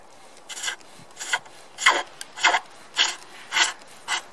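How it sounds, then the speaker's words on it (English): A spindle gouge cuts decorative indents into wood turning on a pole lathe, with about eight close, loud rasping strokes in a steady back-and-forth rhythm, each dropping into a brief pause between. "the spindle gouge is also useful for making patterns as well, so if you wanted to make a bit more of an indent, here for example, you can do"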